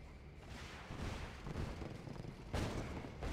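A flak cannon fires repeatedly in the real-time strategy game Red Alert 2 during a tournament match, with muffled thumping bursts over a dense rumble of battle. One stronger blast comes near the end.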